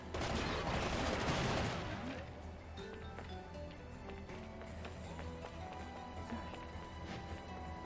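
Security guards open fire with heavy weapons in Bayonetta, a loud dense burst of automatic gunfire over the first two seconds, then scattered lighter shots and game effects continue under a steady background.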